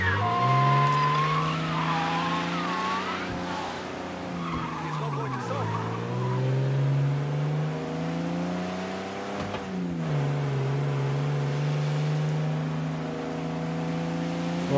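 A heavy 125-horsepower car drives in Mafia: Definitive Edition, its engine droning steadily with rising and falling revs like gear changes, loud and continuous throughout.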